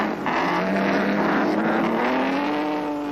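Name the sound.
1930s racing cars, Mercedes and Alfa Romeo, at Monaco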